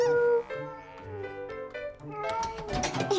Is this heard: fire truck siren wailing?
no